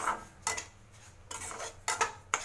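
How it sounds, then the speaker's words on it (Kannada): Semolina is fried and stirred in a pan, with several distinct scraping strokes of a spoon against metal in an uneven rhythm, fairly quiet and close. "ರವಾ ಫ್ರೈ ಮಾಡ್ಕೊಳ್ತಾ ಇದ್ದೀನಿ. ರವಾನ ಫ್ರೈ ಮಾಡ್ಕೊಳ್ಳೋಣ."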